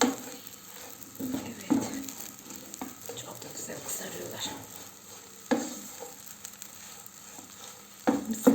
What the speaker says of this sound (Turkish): Bakın kızarmaya başladı ekmeklerim.